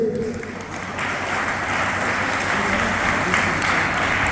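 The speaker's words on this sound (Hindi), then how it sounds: "इसी माला अर्पण पे आप तालियां का स्वागत करें।" A crowd at a live satsang claps steadily and densely throughout, a sustained wash of applause at close range with no pauses.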